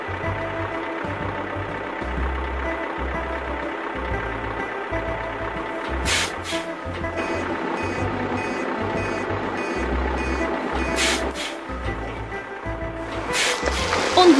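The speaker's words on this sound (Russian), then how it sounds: "Засигналил экскаватор." A cartoon excavator sounds a series of beeping honks in a regular on-off pattern over a steady machinery drone, with brief bright accents mixed in.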